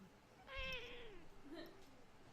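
A cat gives one drawn-out meow followed by a shorter, softer second call, close but quiet against faint room noise.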